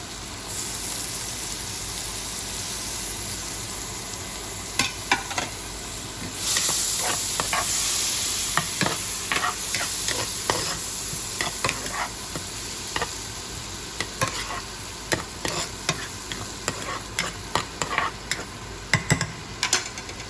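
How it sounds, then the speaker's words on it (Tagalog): Butter melting with garlic in a pan for a Filipino milkfish and shrimp dish, a steady broad sizzle throughout that brightens midway, with sharp clicks of stirring scattered over it. "nagme-melt na tayo ng ating butter at ilagyan na natin ating garlic"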